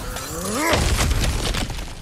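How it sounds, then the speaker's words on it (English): In God of War Ragnarök, breakable objects are smashed apart with a loud crash, then a clatter of scattering debris trails off under low background rumble. "Ah, back to smashing through things for fun and profit."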